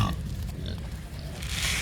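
Pigs grunt and jostle while feeding at a mineral buffet, a steady close low rumble of snorts throughout with a faint voice in the background.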